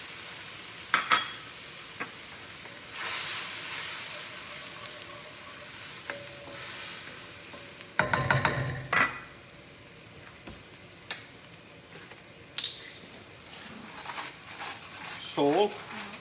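Artichoke chicken sizzles in a pan after lemon juice is added, a soft, steady frying hiss with occasional louder bursts and utensil clinks as it is stirred.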